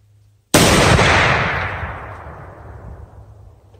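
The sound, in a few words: AR-50 rifle gunshot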